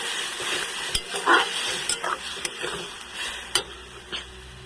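Spicy masala paste stirred into fried onions for a potato and egg curry, a soft sizzle under scraping stirs and a few sharp utensil clicks against the pan, close and moderate.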